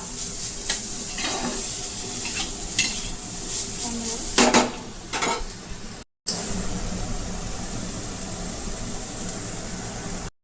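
Momo filling being stirred in a pan, with irregular scraping and clinking of a utensil against metal in short bursts over a steady background hum, close and moderately loud, with no voices.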